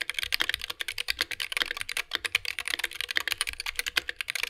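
Rapid, close clacky keystrokes on a Wooting 60HE keyboard with a steel plate and no case dampening, a dense uneven stream of typing heard alone.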